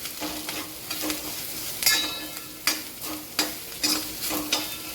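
A spoon scrapes through spices, onion and tomato frying in tempering oil for a moth bean curry, making a series of distinct stirring strokes about once a second over a continuous low sizzle, with no talk.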